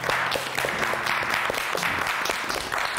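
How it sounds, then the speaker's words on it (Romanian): Steady crowd applause at a televised reality-show gala, dense and continuous clapping mixed with a murmuring audience and no clear speech on top. "Haideți să-i aplaudăm!"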